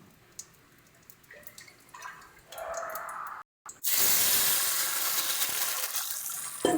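Cooked lentil dal is poured into a pan of cumin tempering. A few quiet drips and light clinks come first, then a brief silence, then a loud, sustained gush and sizzle of liquid hitting the hot pan.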